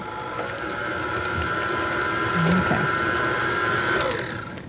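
An electric mixer whirs steadily through pumpkin dip for a few seconds, a continuous mechanical drone with a faint rattle near the end.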